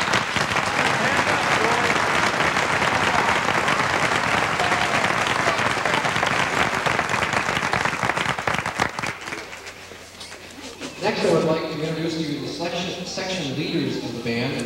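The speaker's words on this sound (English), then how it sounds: "How about a nice round of applause for these great band booster parents?" Audience applause at an indoor marching band concert, dense sustained clapping from a large crowd that fades after about nine seconds, then a voice begins speaking over the remaining room noise.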